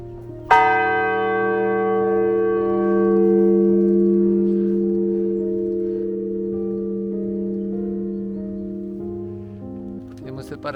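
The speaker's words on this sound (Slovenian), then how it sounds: "Še en ogromen zvonc." A huge church bell at the Saint Helena chapel on the Karst edge strikes once loudly, then its deep tone hums and slowly decays over about ten seconds, with a faint second strike near the end.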